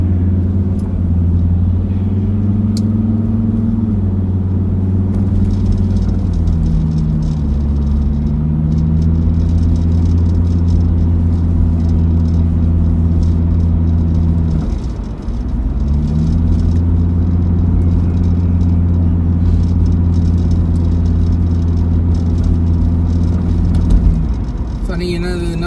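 A car cruising along a main road in Melbourne, a loud steady engine drone and road rumble with gentle shifts in pitch through gear changes, while a person talks over it.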